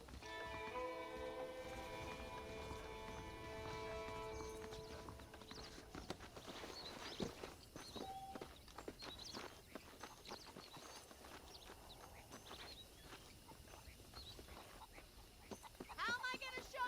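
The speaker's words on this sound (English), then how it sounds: "The horses are saddled up over here." Horse hooves clip-clop at a walking pace in the video game Red Dead Redemption, rhythmic and fairly close, with a person talking over them and faint musical tones at the start.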